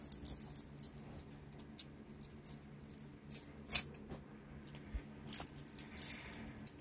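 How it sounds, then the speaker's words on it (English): Car keys jangle and clink in brief irregular bursts inside a car, close and fairly quiet with short pauses between. "Just going to grab my keys."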